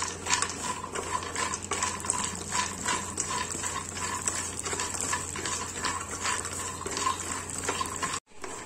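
Makhana (fox nuts) roasting in a pan, stirred continuously with a rhythmic rattling and scraping of the light nuts against metal, close and steady, then stopping abruptly near the end.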